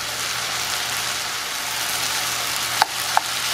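Eggs and sausage fry in a pan, making a steady, close sizzle with a few sharper pops and spits near the end.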